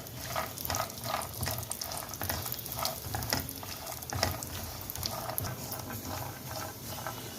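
Cashews and almonds roast in ghee over low heat for oats laddu, a moderate, continuous crackling sizzle with rhythmic stirring scrapes.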